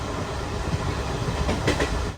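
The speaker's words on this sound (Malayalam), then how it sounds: "നാസിക് റോഡ് റെയിൽവേ സ്റ്റേഷനിലേക്ക് ഇതാ നമ്മുടെ ട്രെയിൻ എത്തിക്കൊണ്ടിരിക്കുകയാണ്" A train pulls into Nashik Road railway station, a close steady rumble with faint clickety-clack of wheels over rail joints, slightly louder in the last moments before cutting off.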